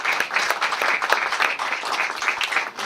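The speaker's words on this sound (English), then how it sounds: "give a round of applause to Rabbi and Rebbetzin Wardy for their tremendous effort" Dense, loud audience applause fills the room, many hands clapping together in a steady roar for a rabbi and rebbetzin being honored, with no voices standing out.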